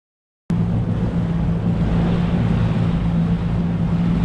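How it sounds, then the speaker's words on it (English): A Yamaha FX SVHO WaveRunner jet ski engine idling during break-in, a steady low droning hum heard close and loud after a sudden start, with wind and water noise and no voices. "we're gonna let the ski basically idle"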